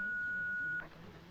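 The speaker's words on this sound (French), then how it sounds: "N'hésitez pas à me laisser un message après le bip." Single answering machine beep, a steady high electronic tone lasting under a second, then cut off into quiet room noise.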